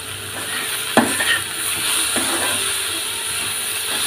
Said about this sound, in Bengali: দিয়ে আমি এবার ভালো করে নেড়ে নেব।